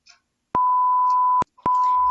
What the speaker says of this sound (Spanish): La alarma de alta también empieza a sonar después de que pasa el rango establecido